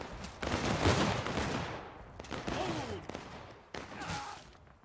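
Musket volleys crack out in a video game battle, with ragged bursts of massed gunfire arriving in several waves, some close and loud, others echoing further off, and no speech over them.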